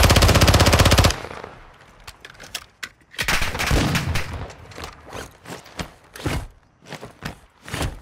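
Gunfire in the shooter game Warzone 2 opens with a loud, rapid burst of automatic fire, then continues as scattered single shots and short volleys at varying distances.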